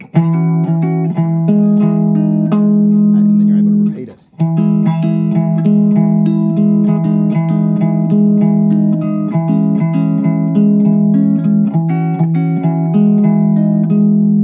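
Steady strummed and picked guitar chords ring out continuously, with a brief pause partway through before the playing resumes, a voice speaking over parts of it.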